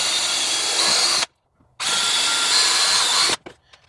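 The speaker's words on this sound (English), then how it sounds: "It's always easier having two drills." A power drill whines loudly and steadily for over a second, cuts out briefly, then runs again for a longer stretch before stopping, close by while a wood box is assembled.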